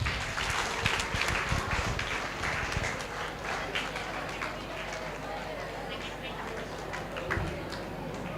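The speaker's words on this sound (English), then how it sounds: "A big round of applause." An audience at a one-day national seminar claps for a professor taking the dais, dense steady applause from start to finish with a faint voice underneath.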